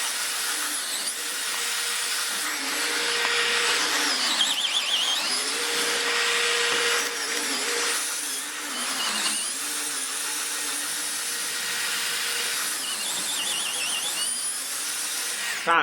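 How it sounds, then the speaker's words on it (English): A Dewalt 12V hammer drill runs under heavy load, its motor whining continuously while the pitch repeatedly sags and recovers as it struggles through the material over about fifteen seconds. "Jeez, Lou, the Dewalt can barely freaking do it."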